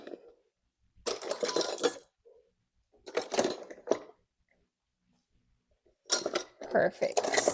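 Cake spatulas and other metal utensils clink and rattle as they are rummaged through in a home kitchen, coming in three bursts of jangling separated by quiet pauses, close and moderately loud.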